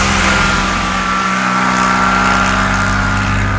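A Giannini 126 GPA, a small track-oriented car, drones loudly and steadily from inside the cabin while driving on the road, its engine hum constant throughout with no speech.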